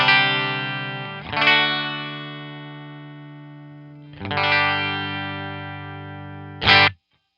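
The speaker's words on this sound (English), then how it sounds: "So here's a Fender Strat with single coils" A Fender Stratocaster electric guitar with hum-canceling single-coil pickups plays three strummed chords through an effects unit, each left to ring out and fade before the next, ending abruptly.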